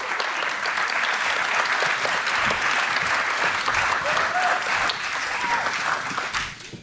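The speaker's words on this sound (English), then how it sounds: "Let's have another round of applause" Warm, continuous applause from a conference audience at an awards moment for a third-prize winner, evenly dense and loud throughout before easing at the very end.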